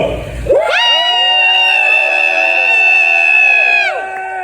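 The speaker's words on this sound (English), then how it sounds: "And I want everyone to scream at the top of their lungs." An audience at a motivational talk screams together at full volume, a loud sustained piercing crowd scream that starts abruptly and holds for several seconds before cutting off.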